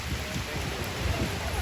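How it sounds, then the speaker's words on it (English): Steady rain falls outdoors during a press conference held by Black Caucus members on Haiti, a dense, even hiss of drops hitting surfaces with no break. "It's raining, but it can't wash away what has happened."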